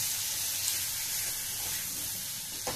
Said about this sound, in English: Fry this very nicely.